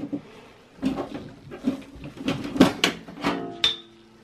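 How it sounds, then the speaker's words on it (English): A Dell Optiplex MiniTower's side cover panel is removed, with a series of close metallic clunks, scrapes and clicks from the sliding panel, ending in a short sharp ring. "So we move the side cover panel."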